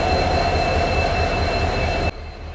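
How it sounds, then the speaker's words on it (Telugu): WDP4 diesel locomotives haul DEMU trains through Hubli station, giving a loud, steady rumble with a high metallic wheel squeal and tonal whine held throughout before dropping off abruptly near the end. "అక్కడేమో WDP4 లోకోలేమో ఇక్కడ ఉండాల్సిన ఈ డీమో ట్రైన్లను అయితే లాక్కెళ్తున్నాయి"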